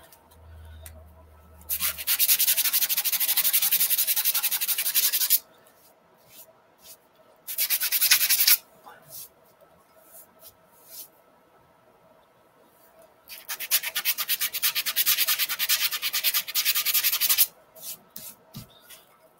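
Sandpaper rubs against a spinning wood turning on a lathe in three distinct passes, each a steady, fairly loud scratchy hiss lasting a few seconds, separated by quieter pauses with the lathe's low hum.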